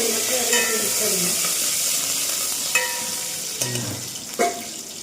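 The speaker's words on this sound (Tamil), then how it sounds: "அடுத்து கருவேப்பிலை நல்லா பொரிச்சு" Curry leaves fry in hot oil for kara kuzhambu, giving a steady close sizzle and crackle with a few sharp pops and light stirring scrapes against the pan.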